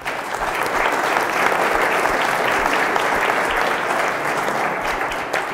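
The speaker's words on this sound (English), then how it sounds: "they deserve a round of applause" Lecture audience in a room full of students giving a round of applause, loud, dense and sustained clapping that stays even throughout.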